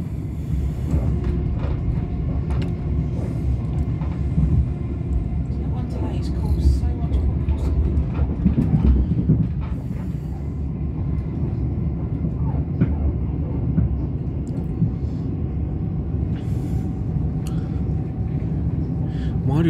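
A steady low rumble of a Southern Railway train rolling along the rails near Lingfield, continuous and droning throughout with faint rattles on top.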